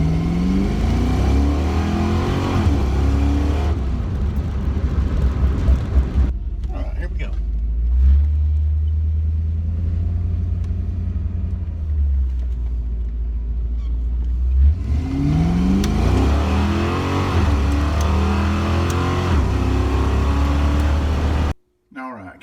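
A 1988 Mustang with an AOD automatic transmission revs and accelerates on the street, its loud engine rising and falling in waves, easing off midway and then surging again near the end, with people talking over it.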